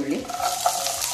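Onion, curry leaves and dried red chilli frying in hot oil for a sweet pumpkin palya, with a spatula scraping and stirring through a steady sizzle, close and fairly loud, no talking.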